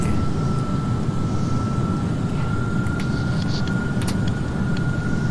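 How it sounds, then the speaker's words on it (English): Boeing 737-900ER airliner engine in a flight simulator game, a steady loud broadband roar with a constant whine held throughout, with faint clicks near the end and no talk. "I only hear the plane."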